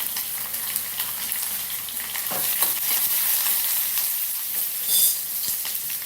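Onions tossed into a hot frying pan with karamani (black-eyed peas), a steady close sizzle with stirring scrapes and a brief louder crackle burst near the end, no voices.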